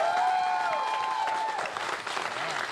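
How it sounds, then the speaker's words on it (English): A crowd applauding at the WHAS Crusade for Children telethon, loud, continuous clapping from many people, with a sustained musical tone running through the first half. "And I'd like to get a round of applause for him"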